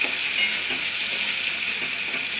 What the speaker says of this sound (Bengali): এবার পুরো মশলাটাকে খুব ভালো করে ভাজবো।